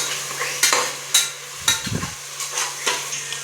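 Tomatoes cooking in a pan with salt and tamarind being stirred, soft scraping strokes of a spoon at irregular intervals over a faint sizzle, with a hum underneath.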